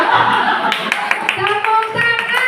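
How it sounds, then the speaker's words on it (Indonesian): Schoolchildren in a classroom clap their hands in a brief, loose burst of applause, with overlapping voices and chatter mixed in. "Tepuk tangan."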